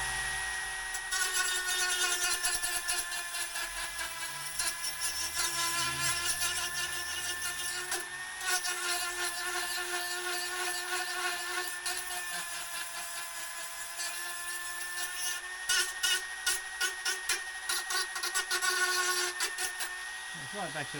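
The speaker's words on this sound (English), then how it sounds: "A little sanding wheel, nothing special," A small sanding wheel grinds paint off scooter plastic with a continuous high-pitched whine, the pitch holding steady and the tone roughening as it bites, with brief surges toward the end.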